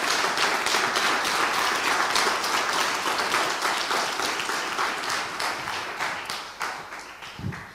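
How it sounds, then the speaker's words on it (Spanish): A church congregation at a Spanish-language evening teaching service claps loudly and steadily together, a dense sustained wash of applause that slowly thins toward the end. "Denle un aplauso, tiene ganas, apláudale al Señor."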